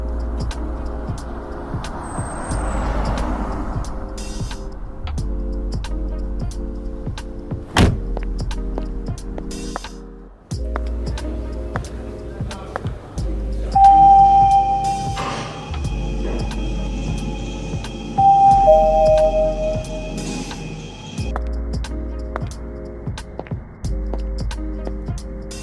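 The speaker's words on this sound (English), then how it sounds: "You'll hear subtle additions ranging from the close of the car door when she exits, to the lounge lobby chatter and elevator tone." A sound-design mix with a car door closing, soft lounge lobby chatter and electronic elevator chime tones, set under steady background music across a long passage.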